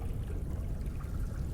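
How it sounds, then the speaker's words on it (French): Murmuring stream with a soft, steady rush of flowing water, close and continuous, with no voices. "Un bruissement de ruisseau."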